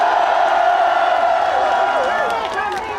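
A large rally crowd protesting an impeachment on a cold winter street cheers and claps loudly, a sustained roar with whoops and a voice rising over the din near the end.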